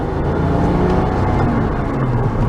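A 2004 Porsche Boxster with a manual transmission drones steadily on the road from inside the cabin, its engine a continuous low hum with road rumble, loud and close throughout.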